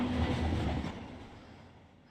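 A computer-generated AI train rolls past in the Run 8 train simulator near LAX, a loud broadband rumble with low tonal drone that fades steadily over about two seconds as it moves away.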